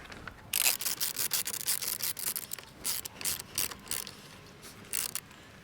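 Ratchet tightening a 12mm nut on a Redarc dual battery tub mount in a 2017 Mitsubishi Triton MR, a fast series of close, crisp clicks in uneven bursts.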